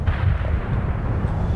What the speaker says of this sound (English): What I want to do with this artillery piece, although it's not necessary, is I want to bombard this Soviet armor here.